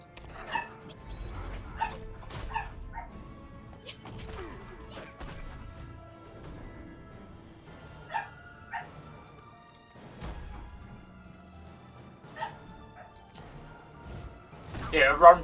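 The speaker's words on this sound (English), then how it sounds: "If you can hear the background noise, it's my dog." A pet dog barks in the background of a room, sharp scattered yips and barks repeating irregularly, moderately loud, with a louder burst at the end and someone talking in between.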